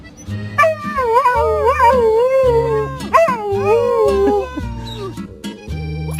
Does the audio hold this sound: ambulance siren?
no